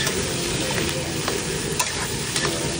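Bacon sizzles steadily in a hot pan with occasional scrapes and clicks of a stirring utensil, a continuous close frying hiss with no talking.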